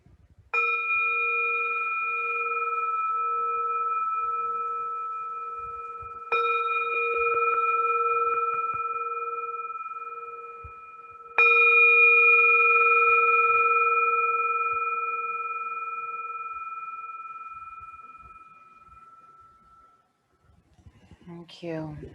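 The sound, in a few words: singing bowl chime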